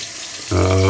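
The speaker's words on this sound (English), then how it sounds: "I'm also running it under hot water when I rinse it" Hot water gushes from a tap in a sudden steady stream while a razor is rinsed, close and loud, starting midway through after a quieter stretch.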